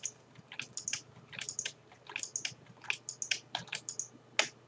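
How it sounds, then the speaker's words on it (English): Fingers typing on a computer keyboard, a close, fairly quiet run of quick key clicks in uneven bursts with brief pauses, no talking, over a faint low hum. "Let's see if I get my fingers over this keyboard."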